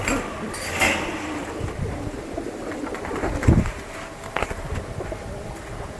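Pigeons in a home loft coo in low repeated phrases over constant background murmur, with a brief knock near the middle and faint voices at times.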